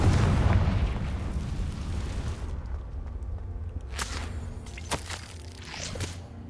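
Confringo spell in Hogwarts Legacy: a heavy, loud explosion opens and rumbles away, followed by several sharp cracking bursts amid game sounds.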